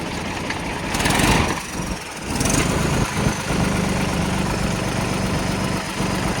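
A Mahindra 295 Super Turbo tractor engine idles close by with a loud, steady, rumbling drone that barely changes, and no talk over it.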